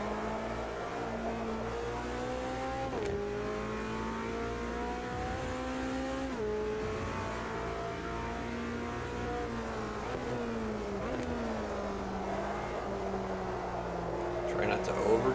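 Race car engine in the racing sim AMS2 at Daytona during a GT Touring event, a steady loud engine drone that rises and drops in pitch through gear changes and corners, with someone talking over it.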